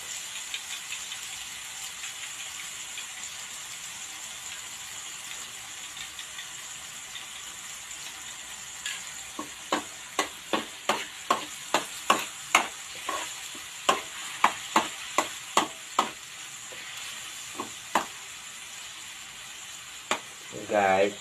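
Chopped tomato and garlic sauté in a hot pan for tortang itlog, giving a steady low sizzle. Partway through, a spatula begins clacking against the pan in a string of sharp, irregular scrapes and taps.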